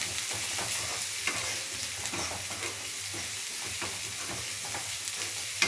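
Pink salt is stirred and fried in a pan for a bitter gourd and onion curry, a steady, close sizzle broken by repeated scraping and clinking strokes of the stirring spoon.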